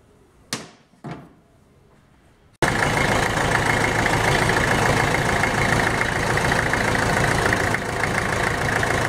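IMT 560 tractor engine, fitted with a water pump, starting abruptly after two short clunks and then running at a loud, steady idle, close by and with no talk.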